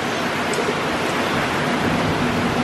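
Heavy tropical rain pours down at a beach area in Phuket, Thailand, a dense, loud, steady hiss of water with no breaks and no voices.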